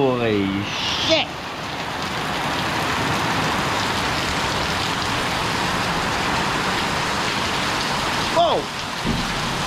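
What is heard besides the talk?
heavy rain pouring down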